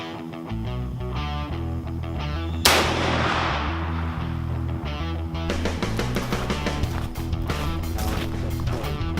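A single loud rifle shot fired while sighting in before deer season cracks sharply and then fades, over a steady background bed of tonal sound.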